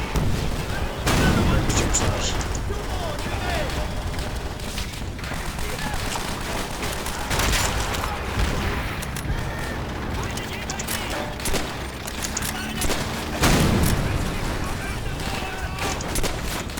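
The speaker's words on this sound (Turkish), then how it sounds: "Yine bomba. Yine aynı lokasyona." Bombs and heavy gunfire boom in a Call of Duty: World at War battle, with dense rolling blasts and bursts continuing throughout and several louder explosions standing out.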